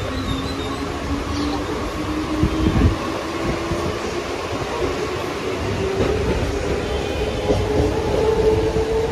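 A Mumbai local train running from Currey Road towards Kurla rumbles steadily from inside the carriage, a dense, continuous rolling drone with faint rattles and squeals.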